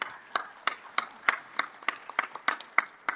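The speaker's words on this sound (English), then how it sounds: "A nice round of applause to the program director" About ten sharp, evenly spaced claps ring out on their own for a program director at a plenary session. They are fairly close and distinct, more like one or a few people clapping than a full crowd.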